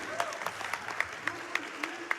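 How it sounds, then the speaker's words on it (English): A live audience at a Kingdom Hearts II Final Mix speedrun event claps in a steady rhythm, about eight or nine distinct claps, moderately faint against a background hum. "Anytime Donald and Goofy does anything, I'm going to clap for it."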